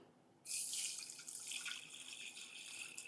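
Water pours steadily into a pan while preparing a pepper remedy, a continuous close splashing stream that starts abruptly and runs without talk.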